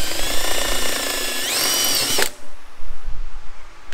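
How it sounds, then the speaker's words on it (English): A power drill whines loudly at high speed, rising in pitch as it punches through, then cuts off abruptly and leaves faint handling noise. "once you get to a point where it's getting ready to break through, ease up on the pressure that you're pushing your drill with a little bit"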